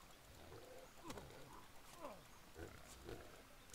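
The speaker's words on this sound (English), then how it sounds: "There's a pig down there." A pig in the Sengoku Dynasty video game gives short, low grunts and squeals at a moderate distance, scattered over quiet ambient game noise.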